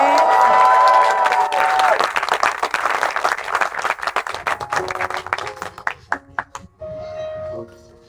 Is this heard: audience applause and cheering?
yes